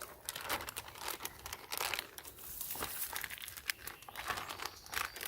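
A plastic bag crinkles and rustles close up in irregular bursts, crisp and papery, with no voices.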